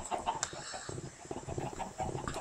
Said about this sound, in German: Los, Hühner. Wir gehen führen. Ich bin der Hühnerhirte.